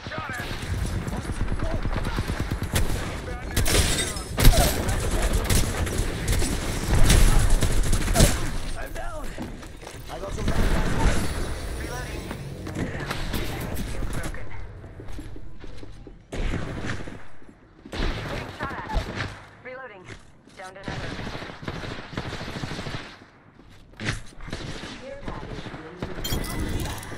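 Gunfire in the Apex Legends battle royale game during a trios match, with bursts of shots and loud chaotic action throughout, mixed with players talking over it.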